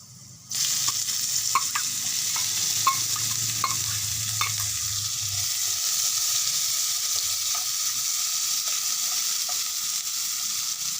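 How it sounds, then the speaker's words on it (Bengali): Chopped onions hit a pan of lightly fried garlic for puti fish curry and sizzle steadily and close by, with a few stirring clicks early on and no talking. "এখন আমি পেঁয়াজ দিয়ে দিব।"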